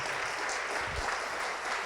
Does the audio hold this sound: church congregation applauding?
yes